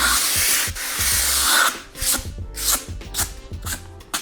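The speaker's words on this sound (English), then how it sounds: "with just a little bit of sanding, we can clean up anything that was kind of left over from the multi-tool" Rough, rhythmic sanding strokes rasp against a wood subfloor panel in a Sprinter 4x4 van, close up, with short bursts of scraping repeated over a few seconds and no voices.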